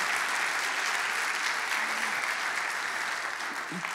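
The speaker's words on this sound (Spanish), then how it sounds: "dele un fuerte aplauso al Señor" Church congregation applauding the Lord during a sermon, a steady dense wash of clapping that holds at even loudness throughout, with no voices over it.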